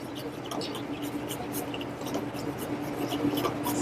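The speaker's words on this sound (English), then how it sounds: "You're going to start to whisk that." Egg yolks whisked with butter in a pan, a quick continuous scratchy whisking under a steady faint hum, close and with no voices.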